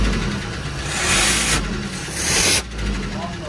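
The engine of a 2019 Ford Transit fleet truck runs steadily nearby, with a broad rumbling hum that swells and rises twice, as if lightly revved, under low talk.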